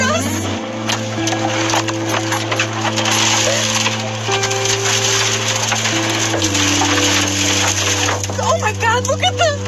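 A tornado strikes in Gaylord, Michigan, with a dense roar of crashing, splintering wood and debris under a panicked voice, loud and chaotic throughout.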